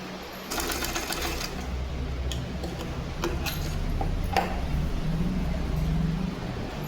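Sewing machine stitching a blouse with lining, a steady mechanical whir with ticking clicks, fairly close and continuous with brief pauses.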